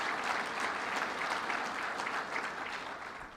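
Steady applause from an audience at a state budget presentation in Utica, dense and sustained throughout at moderate distance, with no voices over it.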